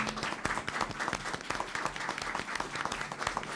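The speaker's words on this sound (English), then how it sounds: "give them a round of applause and congratulate them on a job well done" Board of education meeting audience breaks into a round of applause, a dense patter of many hands clapping steadily and fairly close, with no speech over it.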